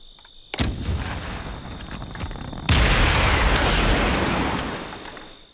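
Rockets ignite on the Rocket Science AK-47 during its inspect animation in Black Ops Cold War, a sharp blast followed by a sustained roaring burn that surges louder halfway through, then slowly fades.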